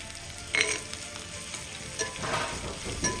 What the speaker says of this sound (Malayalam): ഒരു പാനിലേക്ക് ഇതാ കുറച്ച് നമ്മൾ നെയ്യ് ഒഴിച്ച് കൊടുക്കുക. എന്നിട്ട് അതിലേക്ക് ചെറിയുള്ളി ചെറുതാക്കി കട്ട് ചെയ്തത് ഇട്ട് കൊടുക്കുക.